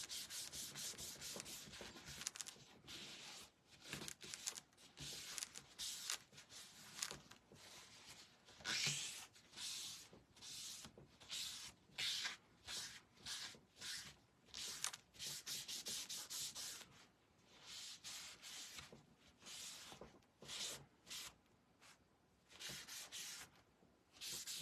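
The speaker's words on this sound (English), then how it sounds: "just rub them down so that they get adhered really good" Decoupage pictures on 2x4 wood are rubbed down with something soft, making close, continuous scuffing and brushing strokes in an uneven rhythm with brief pauses, and no voices.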